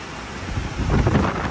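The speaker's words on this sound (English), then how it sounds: "Very windy." A brief, loud roar of wind buffets the microphone, a low rumbling gust that swells toward the end.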